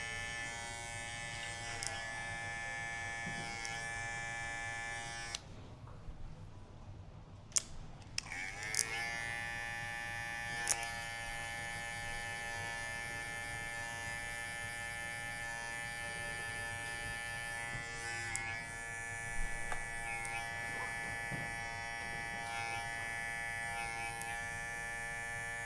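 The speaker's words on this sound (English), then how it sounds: "Take my trimmer," An electric hair trimmer buzzes steadily and fairly quietly at close range, a constant high whine that drops out briefly partway through and then resumes. No one speaks.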